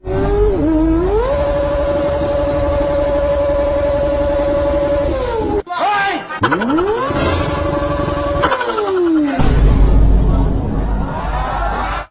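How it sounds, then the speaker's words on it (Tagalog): Heavy road traffic with cars and motorcycles, engines droning and revving steadily throughout, with a loud pass-by and a sharp break midway, amid background crowd chatter. "kung gaano ka traffic"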